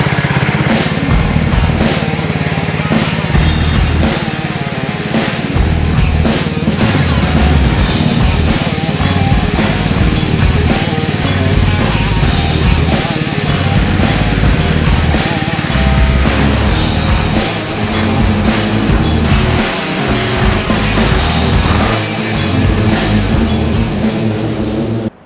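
A Cub Cadet lawn tractor towing a Brinly dethatcher across a lawn of dead grass gives a loud, steady engine drone with mechanical rattle, close and continuous for the whole stretch.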